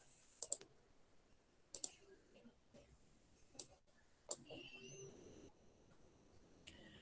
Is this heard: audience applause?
no